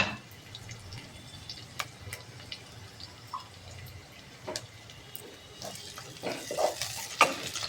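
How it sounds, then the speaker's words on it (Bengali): Onion frying with crushed ginger and garlic in a pan: a soft, low sizzle broken by scattered clicks and scrapes of stirring, growing busier and louder toward the end. "এই আদা রসুন থেতো করার সঙ্গে এই পেঁয়াজটা আমি ভালো করে ভেজে নেব"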